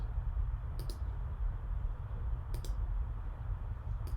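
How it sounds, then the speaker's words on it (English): Mouse clicks sound during saving in HubSpot: two quick pairs of sharp, close clicks over a low steady background hum, with no talking. "Click save."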